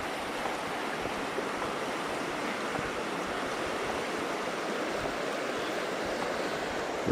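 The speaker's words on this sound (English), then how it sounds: "River's flowing from that direction" Steady, full rush of a river flowing beside a trail in the Appalachian mountains, a constant broadband roar with no breaks and no voices.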